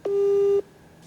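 A telephone tone heard when calling a contact, a single clean steady beep lasting about half a second, then quiet line hiss.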